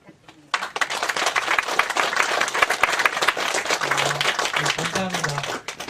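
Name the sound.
audience applause for the professor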